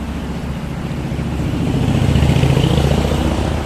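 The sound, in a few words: street traffic noise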